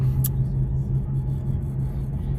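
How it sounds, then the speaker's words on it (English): A Chevy Impala accelerating, its engine a steady low rumble and drone heard from inside the car, with faint road noise and no talking. "Give her a nice little acceleration clip"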